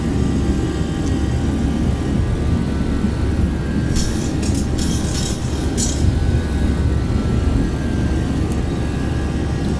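Airliner engines roaring steadily in a thrust climb inside a flight simulator game, a loud continuous broadband rumble and whine with brief higher clicks in the middle.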